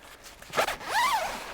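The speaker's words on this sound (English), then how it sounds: "this guy you can zip down" The window zipper on a Cabela's Guardian 8-person tent is pulled in two quick drags: a short rasp, then a longer, rising-and-falling zip, close and clear.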